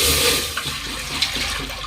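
Water pours steadily into a cooking pot being readied for a potato dum biryani, a continuous rushing splash that stays close and fairly loud throughout, with no talking.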